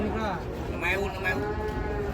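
Cattle being unloaded from a truck moo loudly and close, with long drawn-out calls while people talk nearby.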